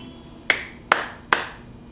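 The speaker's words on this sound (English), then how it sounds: "And then we're gonna clap." Three sharp hand claps, evenly spaced about half a second apart, close and crisp with short decays in a quiet room.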